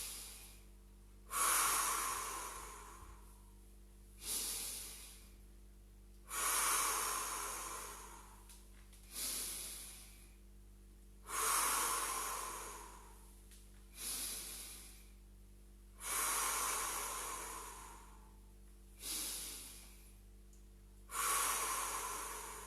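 A person breathing steadily through a Pilates workout, with about eight slow, airy breaths evenly spaced. Each one swells and then fades, close to the mic, and there is no talking.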